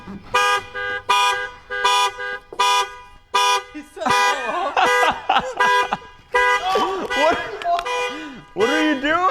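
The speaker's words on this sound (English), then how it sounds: "Is that your alarm?" A car alarm on a truck at the SEMA Show cycles through loud repeating tones, steady beeps then warbling siren sweeps, sounding close with voices talking over parts of it.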